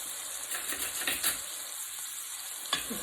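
Salmon and shrimp with garlic fry in a pan, giving a soft continuous sizzle with scattered pops and a couple of sharper crackles, fairly quiet and without talk.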